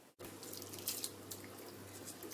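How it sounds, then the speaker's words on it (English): Rice is poured into a pot of boiling water with coriander leaves and mint, making a close, steady, hissing watery rush that continues evenly with no talking. "We have to put all these rice into this water."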